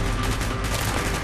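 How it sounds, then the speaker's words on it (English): Dense burst of gunfire from Call of Duty: Black Ops, a loud continuous crackle of overlapping shots filling the short moment with no pause. "Gunfire's drawing attention."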